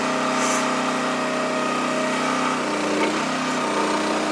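Small engine on a hydraulic wood splitter running steadily at a loud, constant drone, close by, with a brief shift in pitch partway through and no speech.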